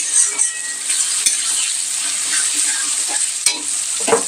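Garlic sizzles in oil in a pan for mutton, a steady close frying hiss with occasional spoon stirs and light clinks.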